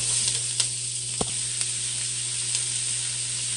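Onions and fresh thyme sauté in a pan for oxtail stew, giving an even, continuous hissing sizzle with a couple of sharp utensil clicks.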